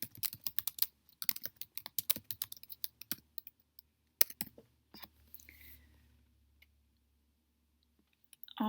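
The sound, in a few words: computer keyboard typing a chart title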